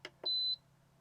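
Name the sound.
temperature probe alarm beeping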